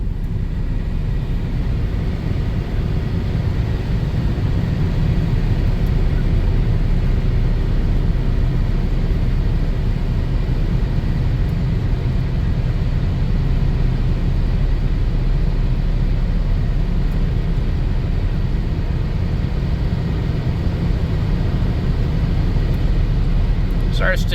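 A 1993 Dodge Grand Caravan LE drives down the road with a steady, loud low rumble of engine and tire noise heard from inside the cabin. A person talks over it.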